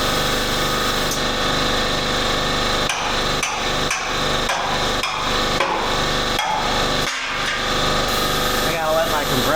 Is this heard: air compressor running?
yes